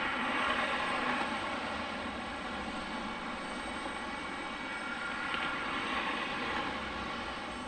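A Republic Airways airliner at Detroit airport heard from a distance, a steady broadband engine roar holding at an even, moderate level with no talk.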